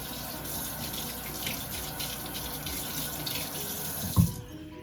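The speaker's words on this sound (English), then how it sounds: "Wash my finger." Tap water running steadily into a kitchen sink while a finger is rinsed during oxtail cooking, a close continuous splashing rush ending with a brief thump as the flow cuts off, no voice.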